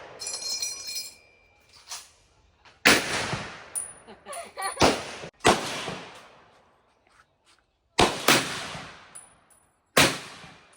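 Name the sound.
gunfire at a shooting range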